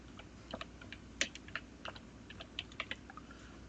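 Typing on a computer keyboard, a run of light, irregular key clicks close up in a quiet room, with no talking.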